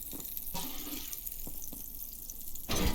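Water pours in the survival game Abiotic Factor, a steady splashing rush like a tap filling a container, with a couple of brief clicks and a louder splash near the end, no talking.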